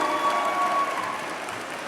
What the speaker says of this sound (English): reciprocate by applauding your family and friends, faculty and staff, all who have helped you achieve this goal